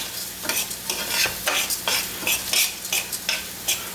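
Garlic shrimp rice is stirred in a hot pot, a spoon scraping and turning it in repeated strokes over a steady close sizzle of frying, with no voices.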